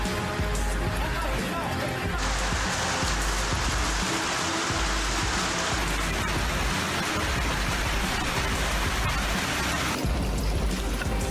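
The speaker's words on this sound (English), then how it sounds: "this sudden hailstorm lasted about 10 to 15 minutes and fell alongside heavy showers" A sudden hailstorm with heavy rain showers in Novosibirsk makes a dense, steady, loud roar of pelting rain that fills the whole stretch without letup.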